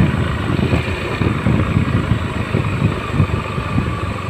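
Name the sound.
Honda Beat FI motorcycle engine idling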